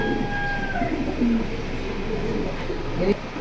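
A big, colorful female pigeon from a pet collection coos softly, with low gurgling calls over a steady background hum and a faint higher tone.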